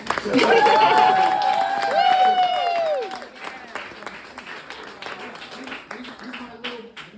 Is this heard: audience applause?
yes